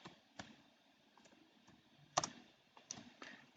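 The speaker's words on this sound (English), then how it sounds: "We do that by typing python" Scattered key clicks from a computer keyboard, a few sharp taps spread unevenly over a few seconds, quiet and close with no talking.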